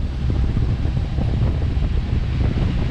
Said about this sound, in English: Today's a motoring into the wind kind of day.